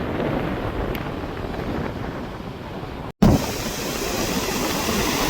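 Strong storm wind off a rough sea at Jaffna buffets the microphone with a constant loud roar, like rough surf, interrupted by one brief dropout midway.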